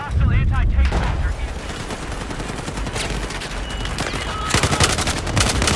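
Video game battle gunfire, sustained loud bursts of automatic weapons and rapid shots layered with booms and a voice speaking over the din.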